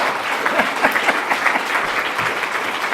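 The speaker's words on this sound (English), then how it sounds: "How about a round of applause for our candidates?" At a congressional district candidate forum, an audience applauds the candidates with steady, close, moderately loud clapping that runs throughout.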